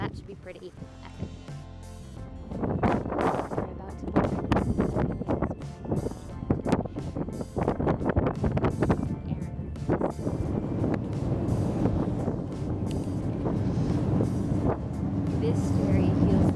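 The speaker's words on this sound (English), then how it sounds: "It's really windy." Strong wind at the Cliffs of Moher on Ireland's coast, a loud, steady roar buffeting the microphone with low rumbling gusts throughout, while people talk under it.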